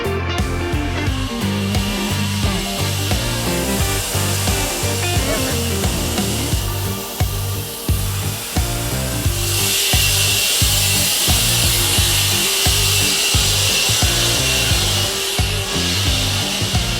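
A loud, steady mechanical whine of a large sawmill blade biting through a big walnut log, with a heavy rhythmic chugging underneath, continuous from start to finish.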